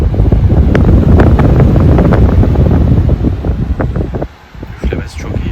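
A GREE Fantastic electric fan blows at speed level 8 right beside the microphone, a loud, steady rushing airflow that buffets the mic before briefly dipping and resuming.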